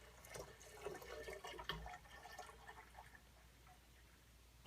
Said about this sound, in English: So I'm going to pour our heated extract into the fermenter.